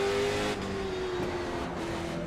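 A late model race car in a racing game holds a steady engine drone with a clear pitch that dips slightly and then holds, loud and close throughout, with no talk.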